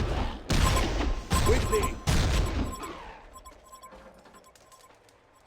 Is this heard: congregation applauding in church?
no